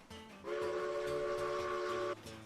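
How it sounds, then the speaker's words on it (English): A steam locomotive whistle in the train game Railroads Online blows one loud, steady, harsh-toned blast lasting under two seconds, over a rumbling engine background, with no talking. "God forbid this whistle sounds like trash."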